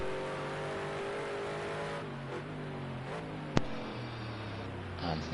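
A GT1 race car in a sim racing game at the Algarve circuit drives hard over a crest, its engine droning steadily with shifting revs and one sharp transient partway through, heard alone without talk.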